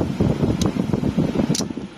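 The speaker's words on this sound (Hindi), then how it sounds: "आपको आवाज़ आ रही होगी कि हमारा जो एसी है वो अभी ऑन ऑफ हो रहा है।" Toyota Hilux Vigo air conditioning with a broken switch handle, its blower humming steadily and close while two brief, sharp switch clicks mark it cycling on and off.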